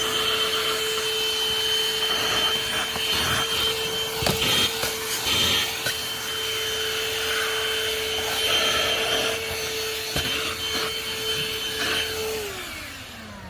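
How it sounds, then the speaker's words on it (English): A handheld vacuum cleaner runs with a loud, steady motor whine and rushing suction, with rattling debris pickup, then winds down at the end. "you can hear how strong the suction is just by turning it on"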